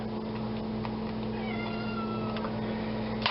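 A cat meows faintly a few times in the background beneath a steady electrical hum.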